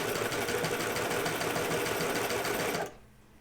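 A sewing machine stitches the side seam of a pair of pants in one continuous, fast, buzzing run that then stops abruptly, leaving a faint quiet tail.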